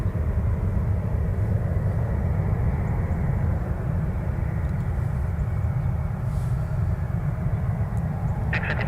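A CRJ regional jet departing for Reagan National makes a loud, steady, broadband engine roar that holds unbroken throughout, heard from the ground at an airport.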